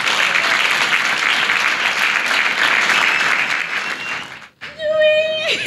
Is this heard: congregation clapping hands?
yes